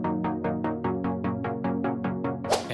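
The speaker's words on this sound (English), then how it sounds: "so here I've got two that are layered that sound like this" Two layered saw-wave synth plucks in a melodic dance buildup, a steady run of bright evenly spaced plucked notes that ends in a sudden noisy swell, loud and close with no talking.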